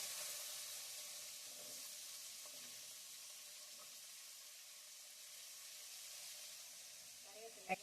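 Low, steady sizzle of potatoes frying in hot oil with popped mustard seeds, a faint continuous hiss with a small clink near the end, and no talk over it.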